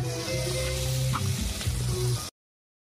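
Eggplant frying in oil produces a continuous, close sizzle with crackly bursts, heard alongside background music before cutting off abruptly.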